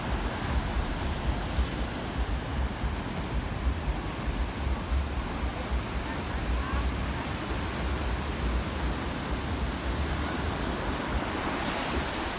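Ocean surf rolling in steadily at Kuta Beach in Bali, a continuous broadband wash of breaking waves with some wind noise, no distinct speech over it.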